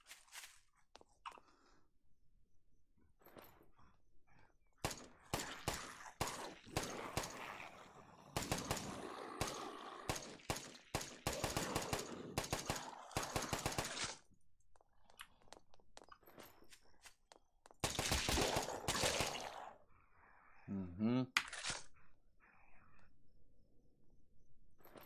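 Bursts of gunfire from bullets in the Night of the Dead video game, rapid crackling volleys in several clusters separated by quieter stretches, with no talking over them.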